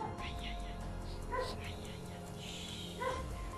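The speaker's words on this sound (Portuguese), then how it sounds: "O cachorro tá latindo" A dog barks a couple of times at a distance inside a house, short yips rising over a steady background hum while people talk quietly nearby.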